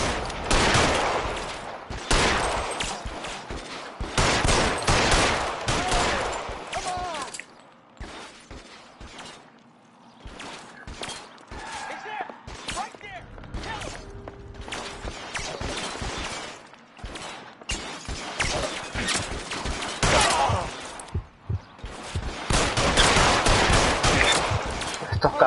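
Gunfire erupts in the video game L.A. Noire: loud, close volleys of rapid shots in repeated bursts, with a quieter lull midway before the shooting builds again.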